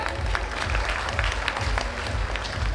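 Loud, dense clapping from an audience at a college freshers party and inauguration event, a continuous wash of hands that stays strong from start to finish.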